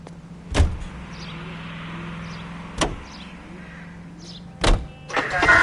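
Car driving in L.A. Noire, a steady low engine hum running throughout with a few sharp door-like thumps and clunks spaced a couple of seconds apart, no talking.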